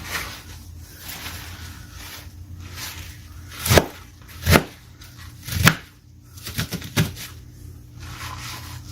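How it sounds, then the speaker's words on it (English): A knife chops through fresh cabbage on a cutting board in a home kitchen, a run of sharp, close thuds coming in uneven bursts, some quick doubles, against a faint room hiss. "Now I'm just chopping up this cabbage"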